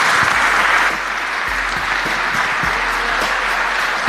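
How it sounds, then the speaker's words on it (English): An audience applauds steadily for a youth sports panel, a loud continuous wash of clapping that holds evenly for the whole stretch, with a low hum underneath and no speech. "Round of applause for them,"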